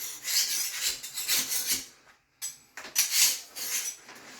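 A painter's tool scrapes old caulk from a floor around a toilet base in repeated rough rasping strokes, close and fairly loud, with a brief pause midway and no talking.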